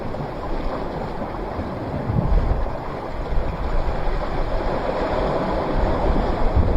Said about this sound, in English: The wind keeps picking up and dropping off and picking up and dropping off.